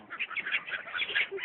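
A crowd of ducks quacks continuously while being fed, a busy, fairly loud chorus of overlapping nasal calls close by with no pause.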